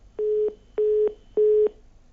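A telephone tone sounds after a caller's line drops during a live call-in show: three evenly spaced beeps, each about a third of a second long, clear and alone with no talk.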